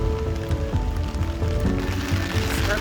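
Heavy rain pours down outdoors in Istanbul near the Blue Mosque, a dense steady patter on hard surfaces with a low rumbling undertone throughout.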